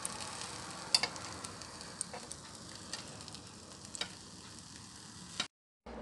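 Eggplant sizzling in a closed toaster press, a quiet, steady frying hiss with a few faint ticks and clicks, ending in a brief silence.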